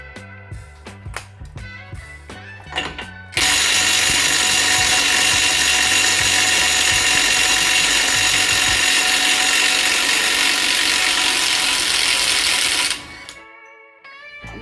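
A small Bauer brushless half-inch impact wrench rattles loose a nut on a 5th Gen Camaro SS. Clicks and short bursts lead into a long, loud, continuous hammering run up close, then it stops.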